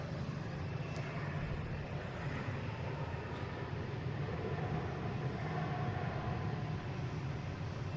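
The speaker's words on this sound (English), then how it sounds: "We have a JetBlue just came in. From Reagan, A220, flight 2954." A JetBlue Airbus A220 arriving at Boston Logan from Reagan National gives a steady, broadband jet engine roar, fairly close and continuous throughout, with no talk over it.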